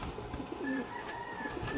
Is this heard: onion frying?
no